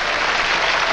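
Studio audience at a British TV comedy-magic show breaks into applause, a dense, steady wash of clapping that fills the whole short moment at full volume.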